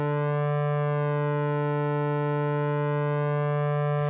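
A sustained Ableton Wavetable synth tone with its LFO1 rate lowered, holding a steady, harmonically rich drone at even volume for the whole stretch, with a brief noisy burst right at the end.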